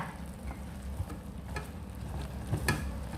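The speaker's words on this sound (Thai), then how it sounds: "น้ำมันหมูของเราก็ได้เดือดแล้วจ้ะพี่พี่ ผัดหมูซ้ำชั้นใส่ต้นหอมนะจ้ะ" Pork belly stir-frying with spring onions in hot lard, cooked in a rice cooker pot: a steady close sizzle and fry hiss with occasional scraping stirs of a utensil against the pot.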